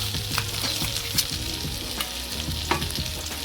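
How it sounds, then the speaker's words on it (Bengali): Boiled, mashed potato stirred and fried in a pan with mutton gives a dense crackling sizzle broken by sharp scrapes and knocks of the spoon, close and with no speech. "ঢাকনাটা খুলে আমি আর একটু নেড়ে চেড়ে ভেজে নেব"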